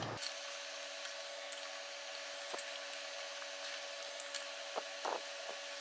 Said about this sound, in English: we're going to go ahead and take off the lug nuts